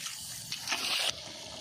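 Water poured into a pan of Tyson chicken sukka as it cooks, a short splashing gush rising for about half a second and then stopping, heard close with no talk.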